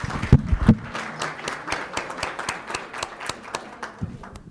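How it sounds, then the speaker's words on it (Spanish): Scattered applause welcoming an expert panel at a fixed-income and equities seminar, a modest group clapping in uneven bursts after a couple of heavy thumps at the start, thinning out toward the end. "les doy una calurosa bienvenida a nuestro panel de expertos. Aplausos."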